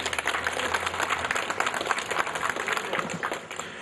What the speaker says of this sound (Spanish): El aplauso fuerte para él